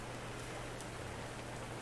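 Simulated rain in the video game Kurn, rendered as a steady, dense hiss of falling rain that stays even and continuous for the whole short stretch, with no voices over it.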